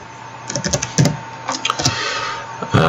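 Someone types on a computer keyboard, a short run of close, crisp key clicks in irregular bursts over a faint steady hum.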